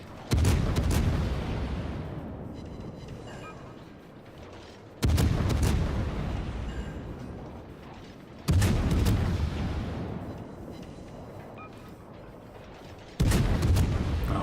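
Heavy naval guns of the German cruiser Hindenburg fire in World of Warships, four loud booming salvos spaced a few seconds apart, each with a sharp onset and a long rumbling decay.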